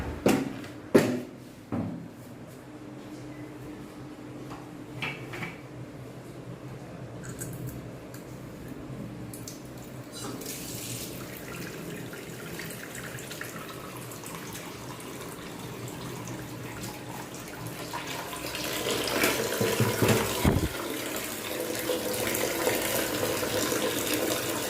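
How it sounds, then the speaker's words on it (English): Water runs and splashes steadily as a portable folding washing machine is filled in a washroom, a continuous gushing flow that grows louder and fuller toward the end after a few clunks at the start. "So somehow not, I filled some water in this, as you can see."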